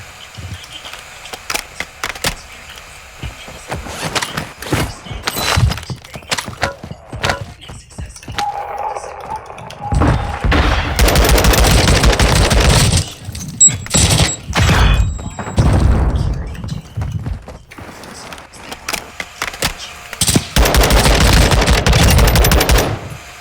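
Rapid automatic gunfire from a first-person shooter video game with a red dot sight, loud sustained bursts alternating with single shots and short pauses, on a PC that stutters.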